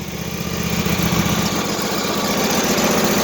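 A Husqvarna engine runs after a cold start with jumper cables attached, a steady, fairly loud idling rumble with a fast pulsing rhythm that holds even throughout and no speech.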